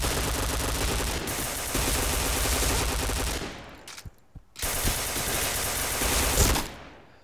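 Sustained loud gunfire in a clan war match of a video game shooter, continuous rapid bursts that cut out abruptly near the middle, leave a brief lull with a few isolated shots, then resume just as dense.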